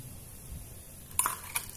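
Spoon stirring fried coconut and chilli powder in a pan for chakka erissery, faint low scraping followed by two sharp metallic clinks near the end.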